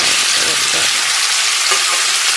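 Canned tuna added to sautéed aromatics sizzles loudly and steadily in a pan, a dense bright hiss of frying with faint stirring underneath, close and continuous with no talking.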